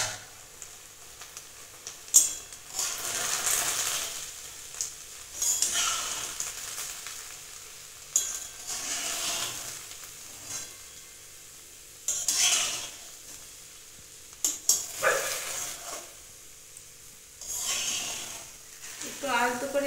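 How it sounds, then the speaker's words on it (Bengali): Basmati vegetable pulao being gently stirred in a pot after steaming, with soft scraping and faint sizzling in irregular bursts, under a quiet voice. "একটু আলতো করে এইভাবে নেড়ে নেব"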